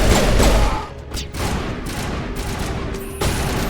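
Shotgun blasts in Mass Effect Legendary Edition come as a dense cluster of sharp, booming shots, with a few more bursts after brief gaps.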